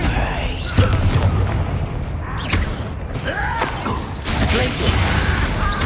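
Confringo fire spell blasts in the video game Hogwarts Legacy, heavy booming explosions with creaking, crumbling debris and whooshing magic, loud and close throughout.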